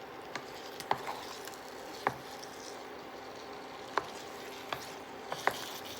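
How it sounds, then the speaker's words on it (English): Stirring a tomato mixture as it fries in a pan, with a steady soft sizzle underneath and a scattering of faint utensil taps and scrapes, quiet and close. "We're just going to keep trying to stir."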